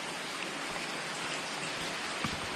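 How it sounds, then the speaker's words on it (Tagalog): Heavy rain falling outdoors during a hunt for wild eel, a dense constant hiss of downpour with a few louder drips near the end, no voices. "Oh, lakas ng ulan."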